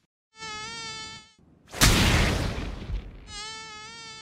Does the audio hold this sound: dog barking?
no